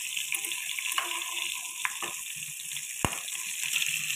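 Fish frying in a home kitchen pan, a steady hiss of sizzling oil running throughout with occasional sharper pops and clinks, moderately close and without any voices.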